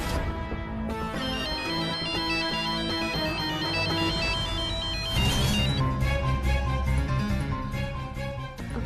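A melodic phone ringtone plays continuously, a bright electronic tune that repeats and swells in loudness partway through, with no voices over it.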